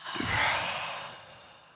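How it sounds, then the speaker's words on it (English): A group of people take a deep breath together, hold it, then let out one long, soft, airy exhale that swells and slowly fades. "let's all three of us just take a deep inhale. Hold it for 1 second at the top and then let it out."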